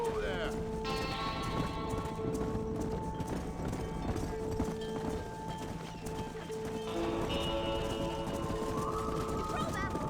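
Hooves clip-clop in a fast rhythmic gallop in Red Dead Redemption while herded livestock and the wider ranch scene sound behind, with voices talking over the running horse.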